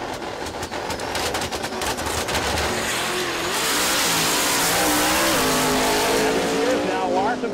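A drag race car roars off the line at a drag strip event, a loud sustained engine blast rising in pitch after a burst of crackling, with a commentator talking over it.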